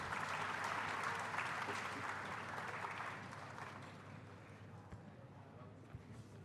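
A round of applause from the audience at a university freshers induction program as a faculty member is called to the stage; steady, fairly distant clapping that gradually fades out.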